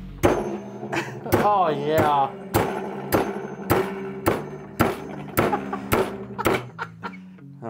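Metal being hammered into an angle during a drone build, with a series of sharp, loud ringing blows struck at a steady uneven rhythm, and brief talk heard between the strikes.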